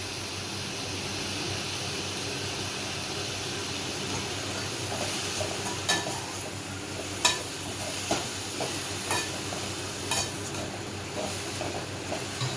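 Banana stem poriyal, salted, cooking in a pan with a steady hiss and sizzle, with occasional clinks and scrapes of stirring near the end.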